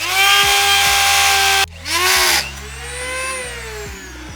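A small rotary tool on an overlong extension whines at high pitch while working on a junkyard Ferrari F430, cutting out abruptly, restarting and winding down into a lower, wavering drone.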